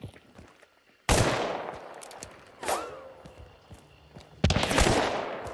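Three loud gunshots boom out in Hunt: Showdown, spaced a second or two apart, each with a long echoing tail, amid quiet ambience and footsteps.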